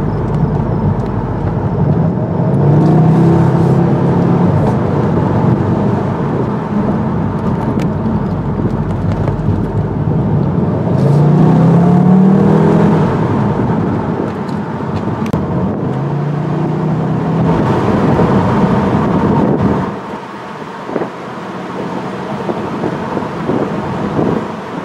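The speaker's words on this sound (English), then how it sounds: "At these slow speeds, the wind noise is rather low. We'll take it a little quicker down the road, see what it sounds like then." Wind and road noise inside a 2016 Volkswagen Beetle Convertible R-Line driven at speed, a loud steady roar and rumble that swells and fades slightly before easing toward the end, with no talking.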